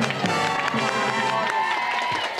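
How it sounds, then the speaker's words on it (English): A studio audience at a game show applauds and cheers steadily in a dense, continuous burst of clapping with some tonal voices mixed in. "Give her a big round of applause."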